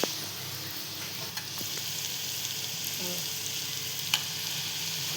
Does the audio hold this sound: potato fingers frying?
yes